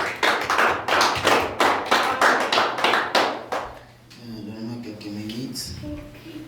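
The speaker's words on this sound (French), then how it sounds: "Est-ce qu'on peut acclamer très fort pour le roi?" A church congregation claps in an even, rhythmic beat, about a dozen loud, close claps, then stops as a sustained tonal sound, like music or a held voice, takes over.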